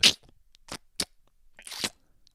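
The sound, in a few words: pet licking itself, mouth noises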